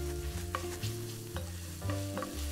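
Garlic fries in a pan with a steady sizzle while a utensil stirs and scrapes through it at intervals, with no talking.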